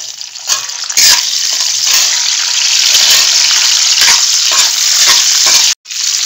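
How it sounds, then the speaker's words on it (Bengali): Cashews and raisins fry in oil for a garnish, a loud, close, continuous sizzle punctuated by repeated spoon-on-pan stirring clicks, cutting off abruptly at the end. "প্রথমে আমি এই কিশমিশ আর কাজু বাদামটা এই তেলের মধ্যে একটুখানি ভেজে নিচ্ছি গার্নিশের জন্য"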